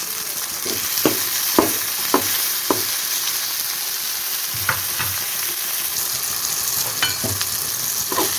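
Tomatoes fry in hot oil in a pan for beetroot palya, a steady sizzle broken by a series of sharp scraping stirs, loud and close, with no voices.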